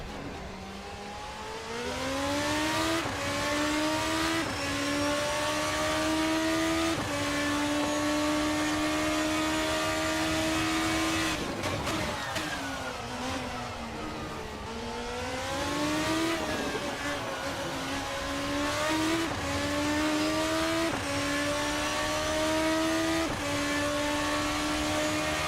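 Formula RSS 2 race car with 980 horsepower in the RaceSim Studio video game, a loud high-pitched engine screaming through repeated upshifts and a brief lift and downshift, continuous and close from the cockpit.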